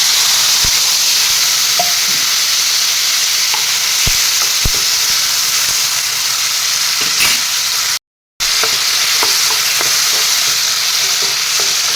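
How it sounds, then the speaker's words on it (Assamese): Onions frying in a pan with tomatoes added, a loud steady sizzle with scattered clicks from stirring, briefly cut out for a moment near the end before resuming. "পিঁয়াজখিনি অলপ ৰংচঙুৱা হ'বলৈ দিম। তাৰপিছত এয়া দি দিম বিলাহীখিনি।"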